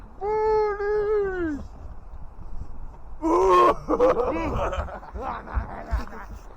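A cat gives a drawn-out meow up close, followed after a pause by soft laughter and chuckling from people nearby, with further vocal sounds trailing off.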